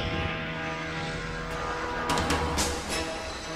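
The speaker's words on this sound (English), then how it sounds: "from the dark confines of its secret hangar, the Tu-144 emerged for its first flight." Tupolev Tu-144 supersonic airliner on its first flight in 1968, a steady loud engine roar with a droning tonal hum and a few brief rises, no talking.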